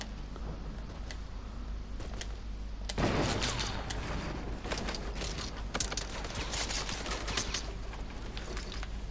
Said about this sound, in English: Alright, shoot that wall again.